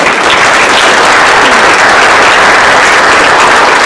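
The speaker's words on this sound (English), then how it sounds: "if we could give a round of applause to Dionne Ybarra." A crowd at a Monterey County Women's History Month gathering gives steady, loud applause, an even wash of many hands clapping together throughout, with no voices over it.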